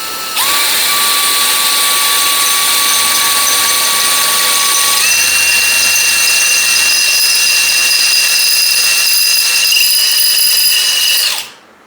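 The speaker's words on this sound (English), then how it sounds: "See if I can drill a hole without bending the crap out of it." A power drill bores a hole in thin metal being made into a house number, whining steadily at high pitch for about eleven seconds with a shift in tone midway before spinning down, loud and close.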